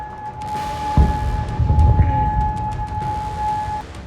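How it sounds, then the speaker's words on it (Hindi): A steady missile alert siren wails continuously in Bahrain, with low rumbling and a couple of dull thumps underneath, sounding distant and outdoors. "बहरीन में सुबह से ही मिसाइल अलर्ट के सायरन गूंज रहे हैं।"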